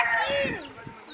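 A black-faced black hen gives a brief, close cluck, a single drawn-out tonal call that bends downward and fades within about a second.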